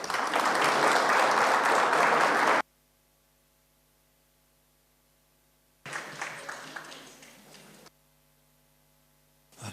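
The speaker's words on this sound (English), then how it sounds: "can we give him another round of applause?" A burst of loud crowd applause at a university lecture for a couple of seconds, then near silence with a faint hum, followed by a shorter round of clapping that fades out.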